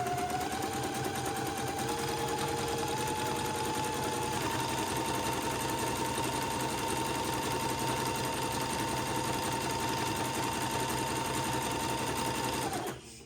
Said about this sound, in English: I'm going to zigzag just again where I just zigzagged.